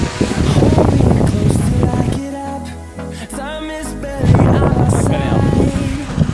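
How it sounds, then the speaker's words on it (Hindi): Strong wind blowing outdoors in a village as a dust storm arrives, a loud, continuous roar buffeting the microphone, easing briefly in the middle and then building again, with faint music behind it. "बहुत हवा चल रही है यार।"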